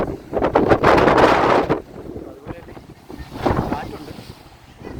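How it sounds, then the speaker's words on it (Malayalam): Strong gusts buffet the microphone on a high hilltop at Vattakottai fort beside the sea, coming in two heavy roaring bursts with a calmer stretch between, close and loud. "അതുകൊണ്ട് കാറ്റുണ്ട്"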